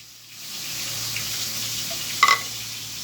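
Tilapia fish frying in a pan gives a steady, soft sizzle that rises after the first half second and holds throughout, with a brief clatter near the end.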